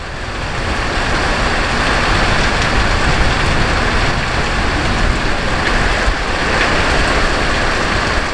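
Heavy rain falls in a dense, steady hiss with no breaks, loud and close, with no voices over it.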